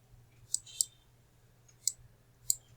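Four sharp, isolated computer mouse clicks, close and crisp, spaced irregularly over a faint steady electrical hum, with no voices.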